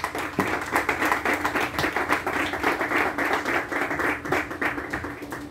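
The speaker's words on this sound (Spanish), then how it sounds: "Den un fuerte aplauso al Señor Jesús" Church congregation clapping in a fast, steady rhythm, many hands striking together in a dense, continuous pulse that fills the room at moderate loudness.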